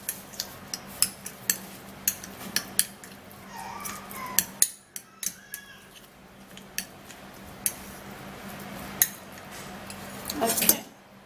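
A metal utensil scrapes and taps sharply in a bowl, mixing garlic and ginger, with irregular clinks and a brief quiet stretch before a final flurry of scraping.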